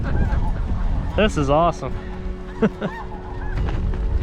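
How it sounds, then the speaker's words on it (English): Snow geese honking during a windy winter snow goose hunt: a flurry of nasal honks from a flock, some close and prominent, others fainter, over strong wind noise, with someone speaking briefly. "Got snow geese all over."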